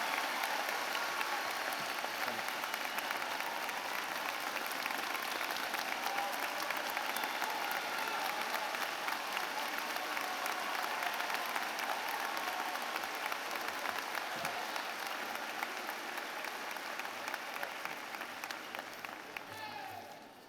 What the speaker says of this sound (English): Can we give Brian one more round of applause for that great speech?